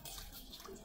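Tap water runs steadily into a sink while dishes are washed, a continuous close splashing flow with no talk over it.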